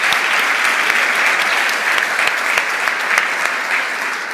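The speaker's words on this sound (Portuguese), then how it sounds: "Uma salva de palmas para vocês que não são fiadores." Loud, sustained applause from an audience fills the whole stretch, with dense steady clapping and a few sharper individual claps standing out.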